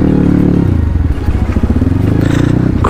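Loud, close motorcycle engine revving and labouring on a rough off-road track toward Upper Mustang, with a pulsing low growl, gear changes and rattling, scraping clatter from the rocky ground.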